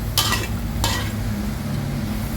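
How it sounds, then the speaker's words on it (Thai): Garlic and shallots dry-roasting in a pan over medium heat for a fresh chili dip, two distinct scraping strokes of a utensil across the pan over a low steady background. "เราก็จะเอา กระเทียม กับหอมแดง ลงไปคั่วด้วยนะคะ คั่วด้วยไฟกลาง ๆ นะคะ"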